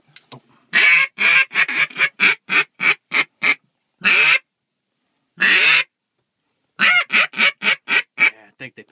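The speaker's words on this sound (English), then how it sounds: "Here comes some ducks." Ducks calling during a duck hunt: loud, close bursts of repeated honking quacks in quick rhythmic runs, broken by a few seconds of silence before another flurry.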